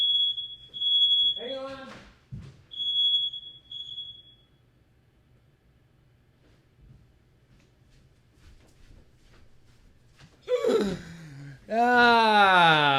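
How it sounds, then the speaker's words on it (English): A household smoke alarm gives several loud, piercing high beeps in quick succession, followed by a long quiet stretch and then shouting voices. "What do I do for smoke alarms?"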